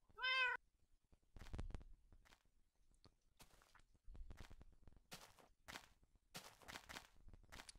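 A Minecraft cat gives one clear meow at the start, followed by scattered soft game sounds like footsteps and movement in a quiet scene.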